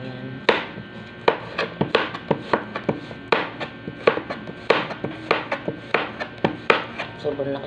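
A knife chopping chop suey vegetables on a board, steady repeated sharp cuts close up, roughly two per second with uneven spacing, continuing for several seconds.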